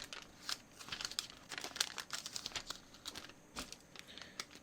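Scissors cut straight across a paper sewing pattern piece for a wrap top, making a quick run of soft, crisp snips and rustles, close by and quiet.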